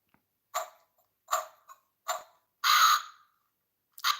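A crow caw sound effect repeats about five times in short, separated bursts, with one longer drawn-out caw near the end. The calls are fairly close and play alone without any talk.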